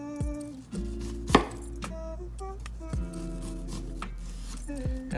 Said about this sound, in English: we'll go ahead and slice right down